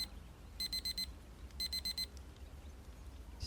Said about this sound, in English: A sharp ringing assaults my ears. My alarm.